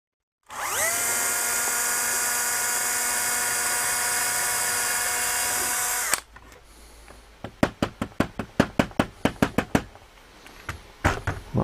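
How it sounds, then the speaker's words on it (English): A small drill with a 2 mm bit whines steadily for about six seconds while clearing a blockage near the end of a tube on an ITT Touring International 104, followed by a quick run of sharp knocks and taps. "I'm going to go in with a 2 mil drill bit and see if I can just drill it out."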